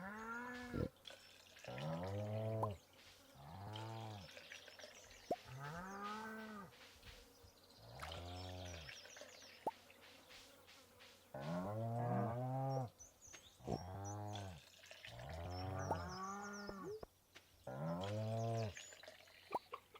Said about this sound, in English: Pet and milk the cows.